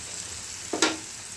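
Mushrooms browning in a pan with a little pepper, giving a soft steady sizzle and then one short sharp burst of frying close by.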